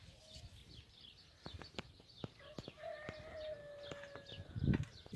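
Birds call in a hobby garden where fruit is ripening, with scattered short chirps and a few sustained whistled notes over quiet outdoor ambience, plus a brief rustling burst near the end.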